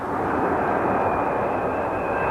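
Large Boeing jet airliner, such as a 747 or 727, flying overhead during wake turbulence tests, a loud steady broadband engine roar with a faint high whine throughout.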